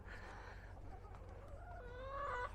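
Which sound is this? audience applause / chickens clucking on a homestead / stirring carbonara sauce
chickens clucking on a homestead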